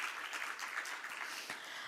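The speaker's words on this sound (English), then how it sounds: "Please give us a round of applause." Polite applause from an audience at a CCUS network forum rises for a couple of seconds, a soft, steady patter of many hands clapping at a distance.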